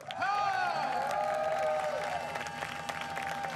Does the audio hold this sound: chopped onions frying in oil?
no